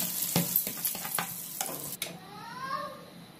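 Gravy frying and sizzling in a pan while being stirred, with a run of scraping stirring strokes followed by a steady bubbling sizzle, close and moderately loud.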